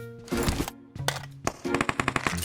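Rapid automatic gunfire in the PUBG Mobile battle royale game, with several bursts of close, loud shots across the clip and a denser string of evenly spaced reports near the end.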